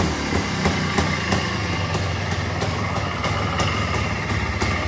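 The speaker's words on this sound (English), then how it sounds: "the engine sounds pretty good" A Yamaha TY250 trial motorcycle that has sat unused for a while idles steadily up close, a dense low engine rumble with regular ticking clicks running throughout and no talking.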